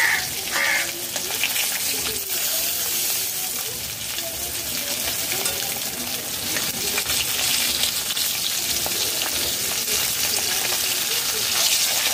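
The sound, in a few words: snakehead fish frying in oil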